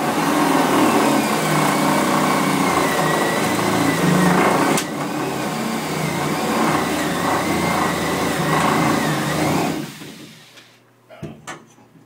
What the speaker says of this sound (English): I pre-drilled this hole bigger to fit our rod. Now we're going to do this one. We're using a unibit, inch unibit.